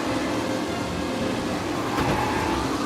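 Race cars roar through a steady, dense engine drone in the video game Mafia Definitive Edition, a continuous wash of motor and road noise with no speech over it.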